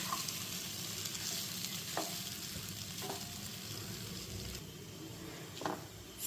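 Sabudana khichdi mixed with sugar and lemon juice cooks on a low flame, a quiet, steady sizzle with a few soft ticks and pops from the pan throughout.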